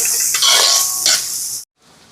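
Onions with crushed ginger and garlic sauté in a pan, giving a loud, bright sizzle close by that surges twice, then cuts off abruptly into near silence before a faint hiss returns.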